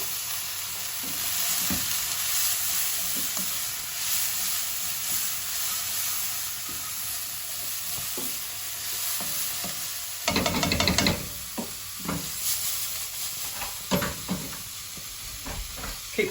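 Ratatouille vegetables sizzle in a hot frying pan with a steady, dense crackle and hiss, broken partway through by a burst of louder stirring and spitting before settling back.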